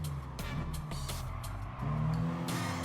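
A Honda Civic racing in Gran Turismo Sport, its engine droning steadily with a rising note near the end as the car accelerates, moderately quiet and without talk.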